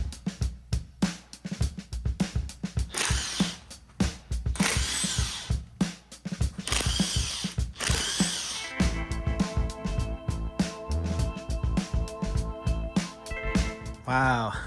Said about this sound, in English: I want to go ahead and take off these valve covers